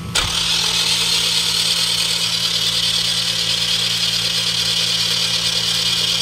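A Toyota Vios engine, after an overhaul, being cranked by its starter with the cylinder head off, a loud steady whirring drone with a low hum beneath, starting abruptly and running unbroken without speech.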